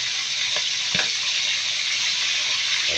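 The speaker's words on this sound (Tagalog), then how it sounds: "Prito mo na prito." Food fries in a pan with a steady, loud, close sizzle that holds unbroken throughout, with a couple of faint clicks of stirring beneath it.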